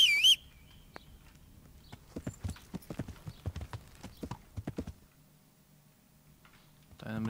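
Horse hooves clip-clop in the medieval video game Kingdom Come: Deliverance, a run of crisp, evenly spaced steps in the middle that stop, bracketed by a brief high whistle at the start and a low rumble at the end.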